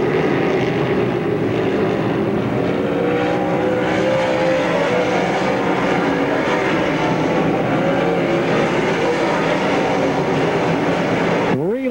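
Stock cars racing at Pennsylvania Motor Speedway, a loud continuous roar of many engines running together for the whole stretch, with a commentator talking over it.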